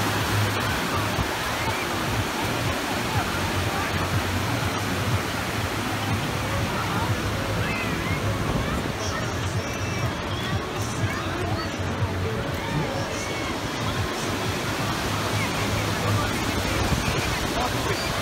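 Sea waves at Palmas beach in Governador Celso Ramos, a constant loud roar of surf filling the whole stretch, with faint crowd murmur and someone talking over it.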